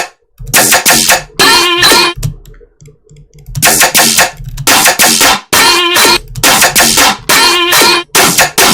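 A gunshot one-shot sample hits repeatedly inside a music track, loud, punchy bursts in a rhythmic pattern over a dense beat, with a short sparse break partway through and no speaking.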